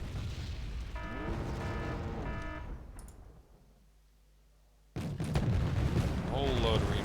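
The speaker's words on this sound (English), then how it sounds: "There's still artillery back here." Distant artillery and gunfire rumble in Wargame Red Dragon's Korean War battle, a sustained barrage that drops to near quiet before heavy booming and crackling fire resumes loudly, with game voices heard in the mix.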